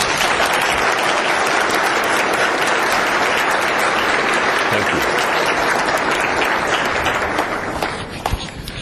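Loud sustained audience applause at a debate at the American Atheists Convention, with a dense wall of clapping lasting nearly nine seconds and easing slightly at the end.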